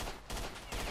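Rapid automatic gunfire cutting down bandits in S.T.A.L.K.E.R., loud bursts in two quick waves with a brief gap between them.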